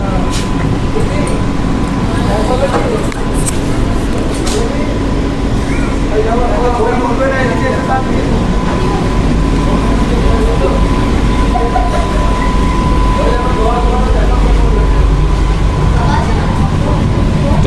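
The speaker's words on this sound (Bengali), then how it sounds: "ট্রেনটি এখন কৃষ্ণনগর স্টেশন থেকে ছেড়ে বেরোলো" AC local train pulling out of Krishnanagar station, heard from inside the carriage as a loud, steady rumble and rattle with wheel noise building, with voices talking over it.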